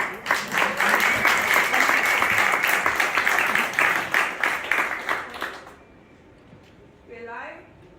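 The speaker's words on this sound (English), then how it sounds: "And applause." Audience applause at the Ikea Festival, a dense, loud crowd clapping that sustains for several seconds before fading out, with a voice speaking briefly once it dies down.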